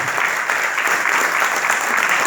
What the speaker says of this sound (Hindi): चलिए एक बार जोरदार तालियां हो जाए इनके लिए।